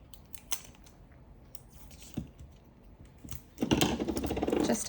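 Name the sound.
tape being pulled and cut for a die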